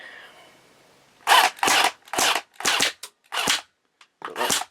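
An airsoft G36 fires BBs in a quick series of six or seven sharp bursts, each striking a French ARFA gas mask with metal, heard close and clear against near silence.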